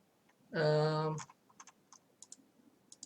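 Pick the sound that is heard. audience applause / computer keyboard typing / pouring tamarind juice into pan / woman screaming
computer keyboard typing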